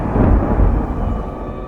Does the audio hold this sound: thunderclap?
yes